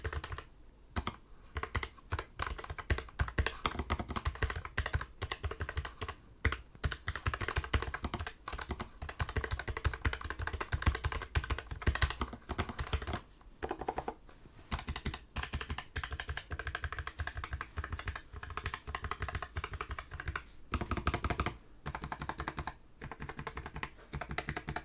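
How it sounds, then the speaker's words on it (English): Fast, continuous typing on a Keychron K3 Max low-profile mechanical keyboard, close up, with crisp clacking keystrokes and occasional brief pauses. "this wouldn't be a real review of a keyboard without having some keyboard sound."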